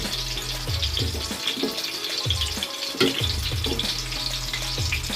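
Egg-and-flour coated chicken satay frying in hot oil, a busy crackling sizzle with bubbling, with brief clunks as pieces are moved, no talking.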